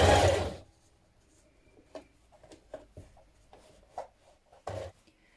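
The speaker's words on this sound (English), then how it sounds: "And now we're going to stitch down close to this edge here." A sewing machine stitches along the edge of a coat, with a burst of fabric handling first, then quiet intermittent needle thumps and short whirring runs, close and soft with no talking.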